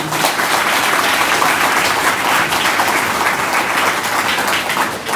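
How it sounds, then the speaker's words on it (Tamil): A large audience claps loudly for their parents at a school or graduation-style gathering. The applause is thick and sustained, evenly spread across the whole stretch, with no voices standing out. "தயவுசெய்து உங்கள் பெற்றோர்களுக்காக ஒரு முறை மிகுந்த கரகோஷம் எழுப்பும்படி கேட்டுக்கொள்கிறேன்"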